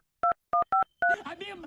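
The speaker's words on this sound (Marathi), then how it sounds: "एका मिनिटात साहेबाला फोन लावतो" Four crisp telephone keypad tones beep in quick succession as a number is dialed, followed by a person talking.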